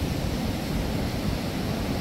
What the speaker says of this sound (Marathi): लाटा बघा ना कशा आहेत